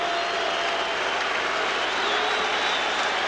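A football stadium crowd at a 1998 Dolphins–Patriots game roaring in salute to quarterback Drew, a dense, sustained wash of cheering heard from a distance with no pauses.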